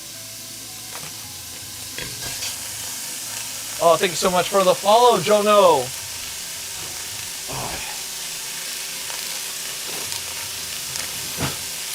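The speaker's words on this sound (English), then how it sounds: "we are going to drop our meat in. Nice and sizzle" Meat frying with no added fat in a ripping-hot pot, giving a steady close hiss with occasional crackles, while a person talks briefly partway through.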